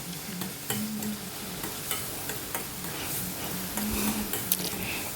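A spoon stirs frying masala in a pan, with turmeric added, for a soya chunks masala curry, scraping and sizzling in steady strokes under a continuous fry hiss.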